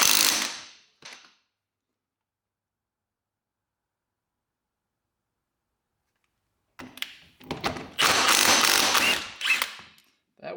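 Crank gear on a big-bore two-stroke quad engine being loosened with a tool, heard as a short burst of mechanical clicks and thunks, then a long pause, then a louder cluster of ratcheting and metallic clatter close by, with no talk.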